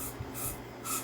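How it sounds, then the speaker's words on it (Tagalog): Silicone lubricant sprayed onto a Glock 17 pistol in short, quiet hissing bursts, two brief spurts separated by a pause, close and soft. "Silicone dito, sir. Spray lang, konti lang."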